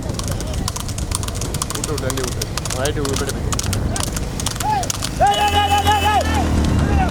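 Hooves of horses galloping in a horse race at Aranthangi check post, a steady drumming beat under constant crowd chatter and shouting from spectators, with bird-like whistles near the end.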